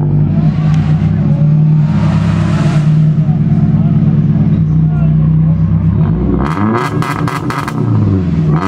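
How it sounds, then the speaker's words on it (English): A Nissan S14 drift car at a Formula Drift event, its engine idling and rumbling loudly, then revving hard in a few rising bursts near the end, with people talking over it. "we got an S14 about to give us a few revs here"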